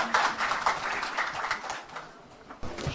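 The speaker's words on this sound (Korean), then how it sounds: "감사의 박수 좀 보내주시기 바랍니다." Applause at a cooperative's annual general assembly meeting: a steady wash of many hands clapping, fairly faint and continuous, thinning briefly near the end before a final flurry.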